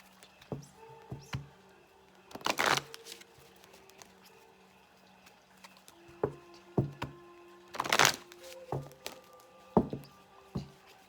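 A deck is riffled twice in quick, crisp fluttering bursts, with soft taps and clicks of cards being handled and squared up between them, close and quiet.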